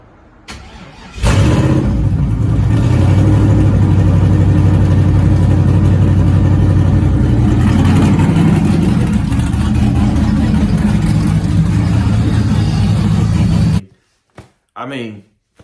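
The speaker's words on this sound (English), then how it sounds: "as soon as we swapped the ECU, we hit the key and it fired right up. It idled on its own." A car engine cranks and fires right up after an ECU swap, then settles into a steady, loud idle for over ten seconds before cutting off, followed by a few short bursts of noise.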